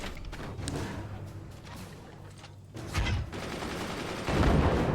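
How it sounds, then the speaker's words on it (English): Mortar fire in the Forts strategy game: repeated heavy, booming shots that overlap into a continuous rumble, growing louder near the end, with no voices. "Slow down the mortar fire."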